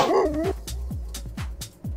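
Dog barking in World Bus Driving Simulator, a rapid run of about five sharp, close barks at a regular rhythm after a brief whining yelp at the start.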